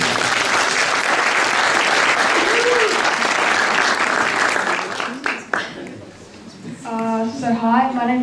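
An audience at a community scams-awareness event gives a student speaker a round of applause, dense clapping that fades out after about five seconds before a voice begins speaking.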